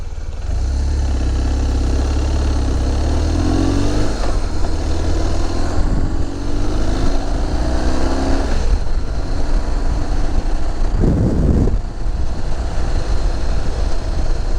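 A car engine hums steadily, rising in pitch now and then as it revs during a downshift, with a brief louder mechanical burst near the end.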